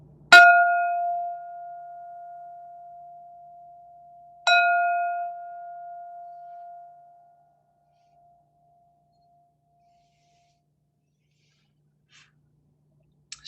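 A meditation bell is struck twice, about four seconds apart, during a mindfulness practice. Each strike gives a clear ringing tone that fades slowly over a quiet background, with no talking.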